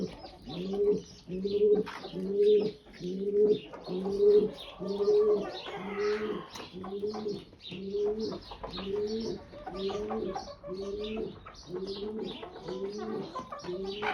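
A pigeon coos in a steady, repeating rhythm of soft, throaty phrases, close and clear, running without a break for about fourteen seconds. It is heard in a home setting where hens and chicks are kept, with no speech over it.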